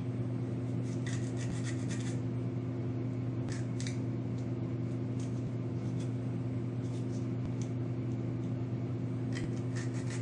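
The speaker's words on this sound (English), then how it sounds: "Those tabs, just quick file." A file rasps at the small tabs on a plastic HO scale grain elevator model kit piece, producing faint scraping strokes in irregular short bursts over a steady background hum.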